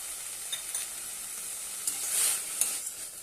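Amaranth greens with coarsely crushed peanuts sautéing in a pan give a soft, steady sizzle broken by a few light stirring scrapes and no voices.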